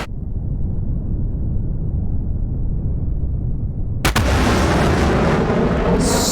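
Missile explosions in a DCS combat flight simulator air battle: a long low rumbling roar, then one sudden sharp blast followed by a louder, brighter sustained roar.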